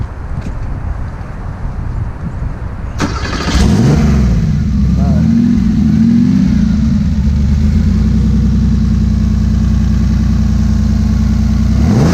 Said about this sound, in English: So you are going to start this car now, right?